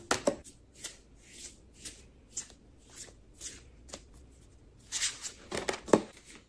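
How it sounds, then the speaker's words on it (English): A deck of oracle cards being shuffled by hand, close up, in a steady series of crisp riffling bursts and soft slaps, growing busier toward the end, with no talking. "So I'm going to be shuffling"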